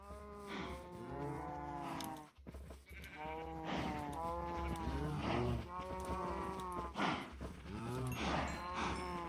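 Video game cows mooing over and over, long drawn-out moos overlapping and following one another closely, loud and near, with a brief dip in the chorus early on.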